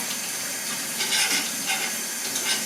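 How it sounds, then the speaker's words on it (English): Running tap water pours steadily over a kitchen knife being rinsed in a sink, a soft continuous splashing hiss at close range with slight changes as the blade moves through the stream. "I just let my knife run through the water, and following the flow, I just clean it"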